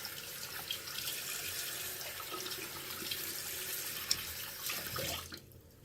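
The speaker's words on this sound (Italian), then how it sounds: "Quindi adesso risciacquo." Running tap water splashes steadily into a sink as a face mask is rinsed off, a close, even flow lasting several seconds before cutting off near the end.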